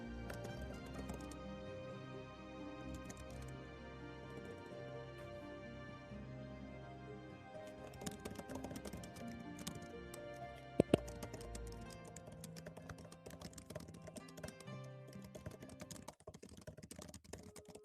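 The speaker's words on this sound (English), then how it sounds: "Oh, the typing is aggressive." Rapid, forceful typing on a computer keyboard, with dense, uneven clusters of clicky keystrokes running throughout and a couple of sharper, harder key hits near the middle, all at a low, distant level with no speech.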